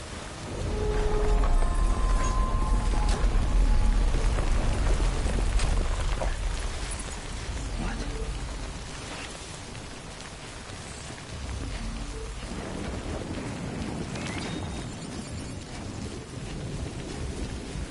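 Timefall rain and thunder in the video game Death Stranding: steady rainfall with deep rumbling thunder, louder at first and then settling into a quieter, constant downpour.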